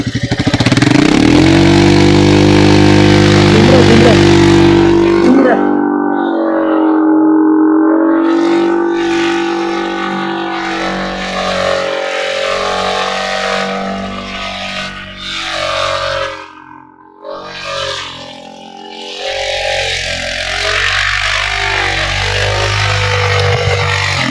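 A Royal Enfield motorcycle on a Zanskar valley mountain route pulls away in first gear. The engine note is loud, close and rough, with a rising rev at the start before it settles into a steady, throbbing pull.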